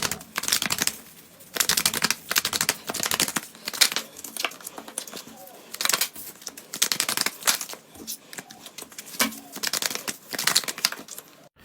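Oracle de Vinci cards are shuffled by hand for a card reading, a steady series of crisp riffling and flicking bursts close up with short pauses between them.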